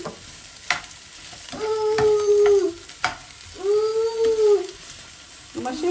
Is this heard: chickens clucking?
no